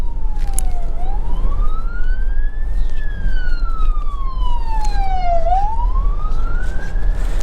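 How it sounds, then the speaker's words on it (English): An emergency vehicle's wailing siren sweeps slowly up and down in pitch, loud and steady over a rumbling traffic background in Jamaica, with no voices. "when you hear the siren guys for an emergency vehicle, clear the way"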